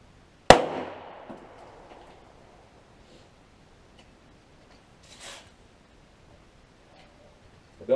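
A single sharp 9 mm pistol shot fired with full metal jacket ammunition through paper cracks loudly and close, then decays over a couple of seconds, followed by faint rustles and a small later thump.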